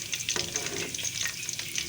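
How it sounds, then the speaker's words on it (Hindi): Flower-shaped samosas fry gently in hot oil over a low flame, giving a steady, close crackling sizzle with light bubbling throughout and no voices. "देखें ये हल्के हल्के फ्राई होने शुरू हो गए हैं।"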